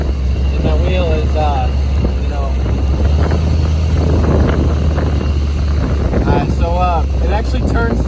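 A 600 hp LBZ Duramax diesel go-kart on 40-inch bogger tires drives on a road in two-wheel drive, its engine a loud steady low rumble with wind buffeting throughout as someone talks over it.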